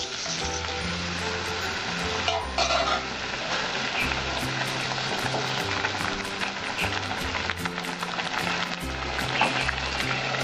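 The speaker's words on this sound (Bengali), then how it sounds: "এইবার আমি কাঁকরোলগুলো যে ভেজে রেখেছিলাম ওইগুলো আমি ছেড়ে দিচ্ছি" Fried pointed gourds sizzle in a pan of milk while being stirred, a steady bubbling fry noise with occasional clinks of a spoon against the pan.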